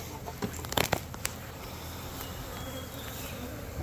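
Honeybees from a young colony buzz around a nuc box made from swarm cells, a faint steady outdoor hum of many wings with a few nearer bees zipping past early on.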